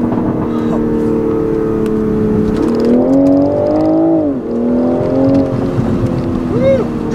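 A 2020 Toyota GR Supra engine pulls hard under acceleration, its loud revving rising and falling in pitch through gear changes, close and steady with road noise underneath.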